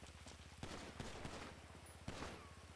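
Volley of gunfire in GTA, a few sharp cracks spread across a couple of seconds over a dense, rapid, low mechanical pulsing, heard faint and distant.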